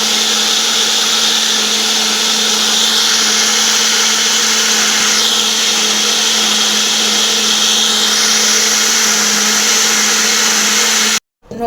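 A kitchen blender mixing milk, sugar and water for homemade ice candy gives a loud, constant motor whir with a slight pitch wobble, running unbroken for about eleven seconds before cutting off abruptly.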